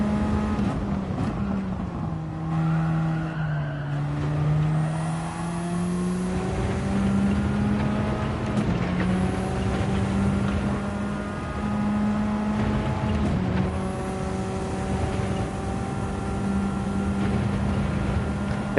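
A race car engine in the Gran Turismo 7 video game drones steadily through gear changes on track, its pitch rising and dipping with shifts, a continuous moderate whine with no voices.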